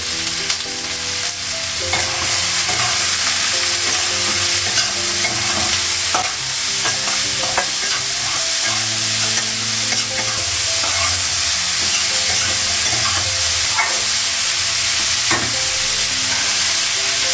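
Potatoes fry in a pan with a steady, loud sizzle, punctuated by occasional scrapes and clinks of stirring, continuous and close without any talk.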